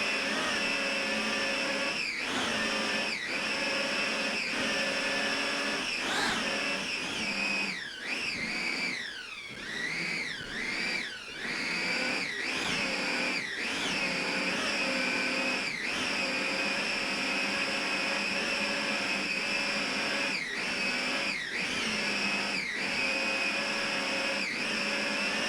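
Offshore racing powerboat engines at a 2003 grand prix, a continuous loud high-pitched drone whose pitch swoops up and down repeatedly as the throttle is worked, sustained throughout.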